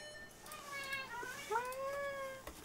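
A cat gives a few clear, rising meows close by against a quiet room, with faint voices around it.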